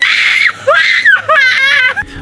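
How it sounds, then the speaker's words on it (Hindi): Panicked passengers scream aboard an airliner diving through a 1984 storm: several high, wavering shrieks and wails rise and fall over about two seconds, loud and close, with a brief pause between bursts. "हर गोते के साथ लोगों की चीखें निकल जाती थीं।"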